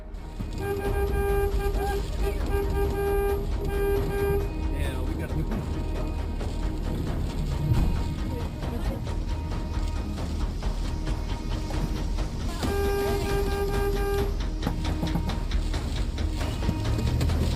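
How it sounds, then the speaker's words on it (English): A tour van's horn honking during a tornado chase, steady sustained blasts heard twice, near the start and again later, over loud wind and engine rumble, with a brief exchange of voices between them. "the tour leader immediately honks his horn to get the group back in the van"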